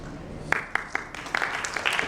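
Audience applause breaks out as a group of about sixty children walks onto the stage at a ten-year celebration event. Scattered claps begin sparsely and thicken into steady, moderately loud clapping.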